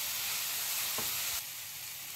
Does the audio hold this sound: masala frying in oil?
yes